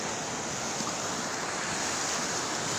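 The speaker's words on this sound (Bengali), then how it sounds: "সমুদ্রের গর্জনটা?" Sea waves roar onto the shore close by, a loud, steady broadband wash of surf and wind with no voices.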